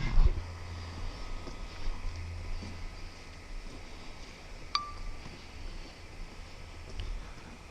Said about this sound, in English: It's amazing how much quieter this one is when it's idling.